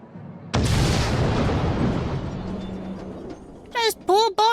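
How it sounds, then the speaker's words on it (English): A huge explosion in The Great Ace Attorney Chronicles, set at the Great Exhibition's experimentation stage, hits with a sudden loud boom and rumbles away over several seconds, followed by short voiced sounds. "the enormous explosion that ripped through the experimentation stage at the Great Exhibition"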